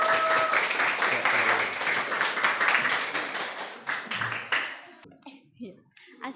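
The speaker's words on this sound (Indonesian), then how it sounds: "Kita beri aplaus untuk kelompok yang pertama ini." Audience clapping for the first group at a final presentation, a dense burst of applause lasting about five seconds before tapering off into scattered claps and quiet.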